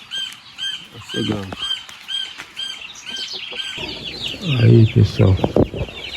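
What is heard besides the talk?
hen clucking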